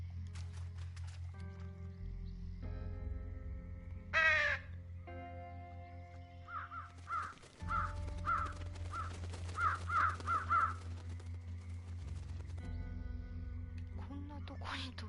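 A crow caws in the adventure game Trüberbrook, a run of about eight short, sharp caws that rise over a steady low hum of background music, with a few other bird cries scattered around them.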